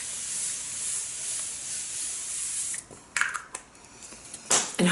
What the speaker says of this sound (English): I actually have a spray can of water,